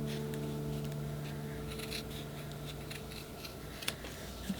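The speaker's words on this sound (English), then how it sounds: "I'm going to cut out the overall shape. I've got lots of felt in case I mess this up." Scissors snipping through felt while cutting out a beaver puppet shape, quiet close crisp clicks and a few sharper snips near the end, with faint room hum underneath.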